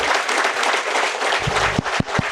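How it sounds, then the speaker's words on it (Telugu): An indoor audience at a youth event gives a loud, dense burst of applause, many hands clapping together steadily, with a few sharper individual claps near the end. "ట్రస్ట్ బోర్డులు అందరికీ ఒకసారి గట్టిగా మనకు మనం చప్పట్లు కొట్టుకుందాం."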